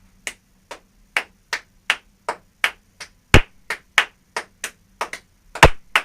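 Sharp hand claps repeat at a steady, slightly uneven tempo during a rhythm exercise, about fifteen crisp near claps with a few louder, heavier ones, with no talking.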